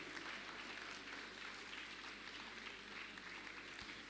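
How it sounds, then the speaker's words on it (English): An audience at a TEDx event keeps clapping as a guest walks to the stage, a faint, steady spread of applause heard from a distance, continuous and even throughout. "Please don't stop clapping until she gets on the stage."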